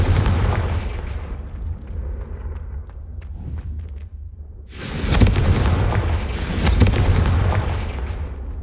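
In the Hogwarts Legacy video game, the Confringo spell sets off loud, booming explosions close by, first a rumbling blast that fades, then two sharper bursts with a heavy roaring tail.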